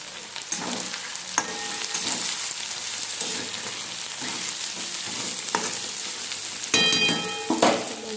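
Mixed vegetables with chopped cabbage sizzle steadily in a pan, and a spoon stirs them with occasional sharp scraping clinks against the metal.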